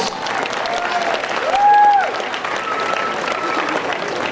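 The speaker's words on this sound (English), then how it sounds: "let's give her a round of applause" Audience applause at a pool show with a big glass side, where a woman has just performed with tigers; steady dense clapping from a crowd fills the space, with a brief whistle-like tone rising above it midway.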